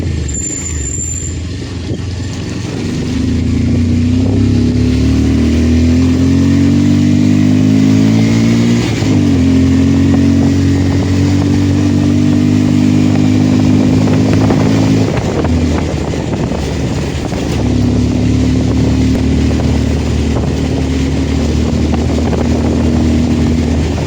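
Motorcycle riding along a straight mountain link road near Mahog and Thermi, its engine steady and close with rising and falling revs as it shifts through gears, and wind buffeting the microphone throughout.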